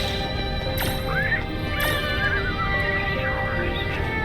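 Pegasus in the Kingdom Hearts Dream Drop Distance game gives a loud, wavering neigh over hoof clip-clops and a soft musical backdrop.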